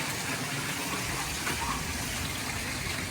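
Steady gush of running water from sheer waterfall features spilling into a new residential swimming pool with pavers and silver sand shell coping, a continuous broadband splash close by with no voices.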